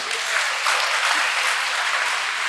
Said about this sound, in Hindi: बजा सकते ताली, अच्छी लगी बात तो बजाइए।